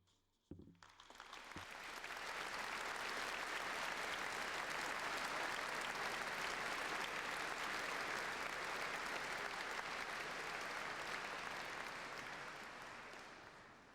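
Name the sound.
audience applause for students at awards ceremony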